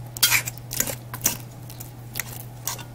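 Mashed malanga (taro) being pressed flat in a pot, giving a handful of soft scraping and clinking utensil knocks at irregular intervals over a steady low hum, fairly quiet and without talk.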